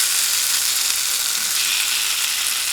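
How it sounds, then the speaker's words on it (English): Rice stir-fried in a hot pan while making kitchadi, a steady bright sizzle with faint scraping of stirring running evenly throughout, close and fairly loud. "we need to add the rice to this and stir fry"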